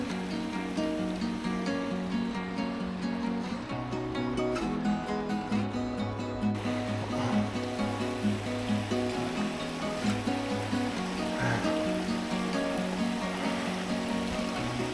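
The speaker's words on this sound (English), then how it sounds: "the sound of running water that's just soothing" Running water of a river swollen from recent rainfall, a steady broadband rush and gurgle heard close and loud throughout, with faint tonal background sounds layered underneath.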